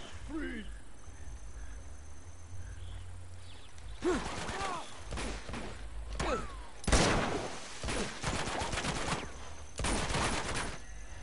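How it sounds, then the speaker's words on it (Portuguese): Gunfire exchange in the video game Uncharted 2, with bursts of automatic fire and scattered shots starting after a quiet stretch, loud and recurring in waves, with someone talking over the shooting. "eu gostei mais dessa trocação de tiro do que do outro"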